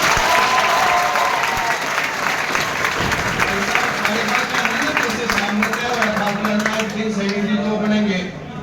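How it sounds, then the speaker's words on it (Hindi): Loud crowd applause for Jasbir Kotwa at a BJP political gathering, steady clapping throughout with voices and some shouting underneath. "एक बार जसवीर कोटवा जी के लिए जोरदार ताली बजा"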